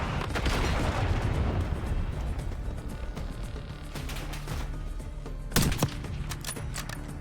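Gunfire and explosions from the Call of Duty: Black Ops 6 video game, a dense barrage of shots and booming blasts echoing through hallways, loud at first, then easing before a sharp burst of cracks near the end.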